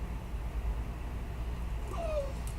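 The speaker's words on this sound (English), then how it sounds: "And that's my dog." A pet dog lets out a few faint, high whimpers and a short yip indoors, set against a low steady background hum.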